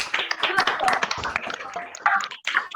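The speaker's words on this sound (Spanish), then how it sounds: "Propongo que todos saquemos los micrófonos y le demos un aplauso al doctor." Applause for a doctor after a lecture, uneven claps mixed with overlapping voices and thanks from the audience, close and busy, rising again toward the end.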